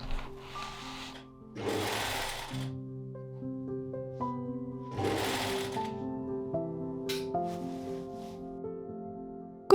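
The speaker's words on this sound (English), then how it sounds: "the layer is secured to the base by sewing over the gathering thread again" A sewing machine stitching layers of tulle onto a skirt base, running in long whirring stretches with short stops and restarts, close and fairly loud, with fabric rustling between runs and no speech.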